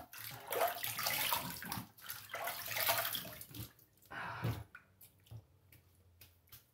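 Water runs from a tap in a barbershop sink for rinsing after a shave, splashing in bursts that stop and start, with short drips and pauses between the gushes.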